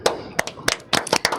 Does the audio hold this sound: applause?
yes